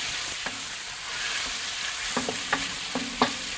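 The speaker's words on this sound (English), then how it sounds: "We're just going to drop our chicken in there and start stir frying this up. And you can hear that sizzle already." Chicken stir-frying in oil in a wok set on a Big Green Egg, with a constant close sizzle and several sharp clacks and scrapes from stirring near the end.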